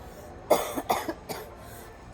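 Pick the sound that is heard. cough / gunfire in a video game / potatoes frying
cough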